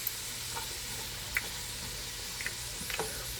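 Onions being stirred in hot oil alongside bacon, a soft continuous sizzle with a few light scraping and stirring clicks scattered through it.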